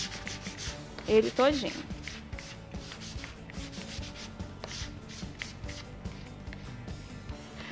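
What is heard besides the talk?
hand sanding MDF basket with sandpaper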